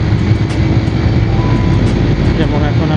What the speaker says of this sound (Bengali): অনেক গাড়ি ঘোড়া আশেপাশ থেকে চলে যাচ্ছে